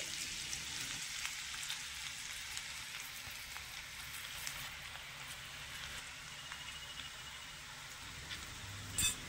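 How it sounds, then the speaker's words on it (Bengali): Mango pulao rice frying in a pan over medium-high heat while being stirred, a steady dense sizzle and crackle that holds evenly throughout, with a brief scrape near the end and no talking. "এবারে গ্যাসের আঁচটা মিডিয়াম থেকে হাই আঁচের মাঝামাঝি রেখে নেড়ে চেড়ে একটু ভেজে নিতে হবে।"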